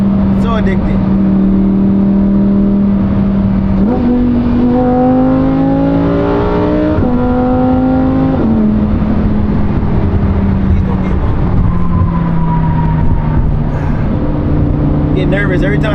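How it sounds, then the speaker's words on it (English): Lamborghini Huracan V10 engine heard from inside while driving on light throttle: a loud, steady droning hum with gentle rises and falls in pitch, and a voice talking over it. "I'm barely touching the gas. I just want you guys to hear the V10."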